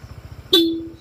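A single short, bright honk from the stock horn of a Honda ADV160 motorcycle sounds suddenly over a low, pulsing engine idle.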